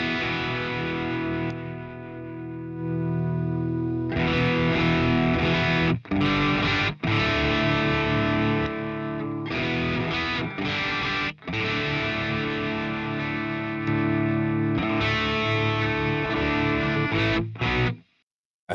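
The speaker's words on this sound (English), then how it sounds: "we can have our distortion pedal also be a little louder" Electric guitar played through a distortion pedal into a clean amp, loud saturated chords and riffs with short gaps between phrases, alone with no talk.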